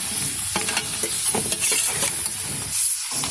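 Caldereta being stirred in a pan after garlic powder is added, a close steady sizzle with scattered scraping and tapping of a spoon, brief and without talk.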